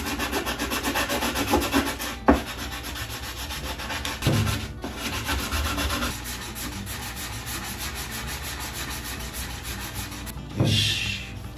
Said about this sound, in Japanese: 切り口が研磨しまして、いっぱい研磨して、まあなんとか見れるぐらいにはなったっすね。